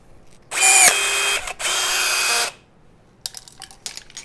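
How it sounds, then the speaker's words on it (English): A POP Avdel PB2500-NA battery riveting tool sets a blind rivet into a test plate: two loud, close motor whirrs, each about a second long, then a few light mechanical clicks. "We'll put the rivet in the tool."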